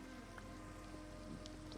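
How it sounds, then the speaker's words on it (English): Steady rain in Minecraft, a soft continuous patter holding at an even level throughout, faint and without talk. "And it starts raining."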